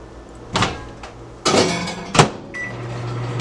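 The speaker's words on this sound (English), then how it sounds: "I'm going to now put that back in the microwave" A microwave oven hums steadily while its door is opened and shut and buttons beep, a few sharp clunks close by.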